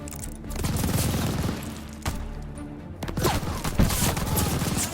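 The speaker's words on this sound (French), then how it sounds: "C'est vraiment le pire pistolet que j'ai vu de tous les temps." Old pistol firing in Call of Duty Vanguard amid a dense battlefield: repeated sharp shots over continuous rumbling gunfire and explosions, loud and chaotic throughout.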